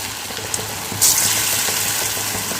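Small pieces of raw banana (valakkai) snack batter sizzle in shallow oil, a steady close crackle that swells louder partway through as more pieces drop in, with no talking.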